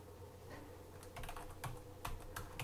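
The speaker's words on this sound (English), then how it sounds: "let me type that out" Fingers tap a computer keyboard in irregular quick clusters of clicks, close but quiet, against a steady low background hum with no talking.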